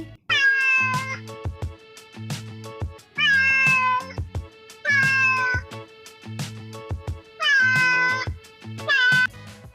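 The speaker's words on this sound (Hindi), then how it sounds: "cat मतलब बिल्ली" A cat meows repeatedly, with several clear, close, tonal meows separated by short pauses, layered over a rhythmic musical backing.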